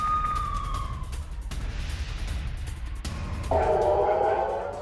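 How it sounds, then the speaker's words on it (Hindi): Air raid sirens sound in northern Israel along the Lebanon border, a loud wailing tone with steady noise underneath, the pitch falling early and a strong new siren tone rising near the end. "लेबनान सीमा पर इजराइल में लगातार सायरन बज रहे हैं।"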